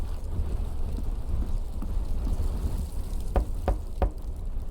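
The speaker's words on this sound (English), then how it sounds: "Lola wasn't kidding about the storm picking up." Storm with rain and thunder in the Rosewater video game, a steady low rumble of wind and rain under a few sharp knocking taps near the end, with no voices.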